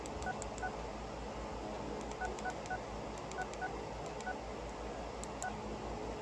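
Keypad tones beep in short separate presses and quick pairs as a frequency is entered by hand on a Connect Systems CS 580 DMR radio, over a steady background hiss.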